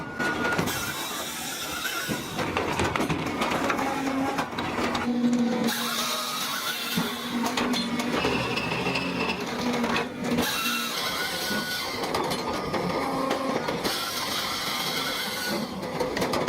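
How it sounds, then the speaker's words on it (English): An industrial circular saw slices through a log, giving a loud, dense, continuous grinding whine that swells and eases over several passes, with no voices. "The spinning circular saw drops instantly, a blur of steel slicing through wood with surgical precision."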